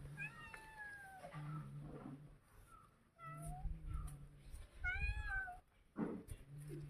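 A cat meows repeatedly nearby while fish is being cleaned, its calls coming in short bursts separated by pauses, with faint clattering in between.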